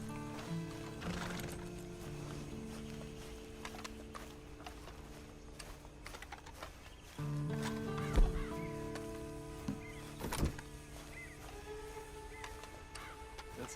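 A horse in the video game Red Dead Redemption 2 gives a few whinnies over scattered clopping hooves, heard amid steady in-game ambience and tonal background music, with a louder thump near the middle.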